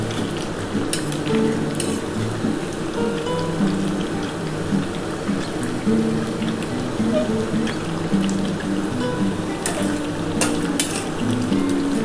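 A steady, dense sizzle of chicken curry frying in a pan with green chillies just added, continuous and close, with faint stirring scrapes running through it.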